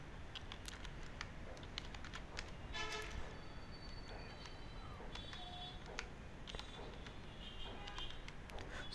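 Plugin name typed on a computer keyboard, a steady run of quick clicking keystrokes alongside faint background noise and a few brief tonal beeps.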